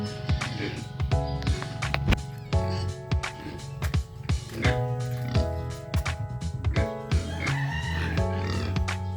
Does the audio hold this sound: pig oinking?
yes